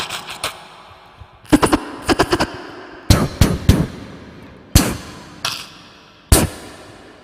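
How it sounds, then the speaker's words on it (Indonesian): Gunfire sound effect with scattered bursts of sharp, loud shots: single cracks, quick clusters of rapid fire and isolated reports, each ending in a short echoing tail, set against quiet gaps. "Ada yang menggunakan senapan."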